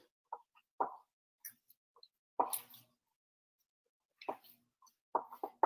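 A congealed flax egg being stirred into a food mixture, giving soft, wet plops and squelches at irregular intervals, quiet and close, with silent gaps between them.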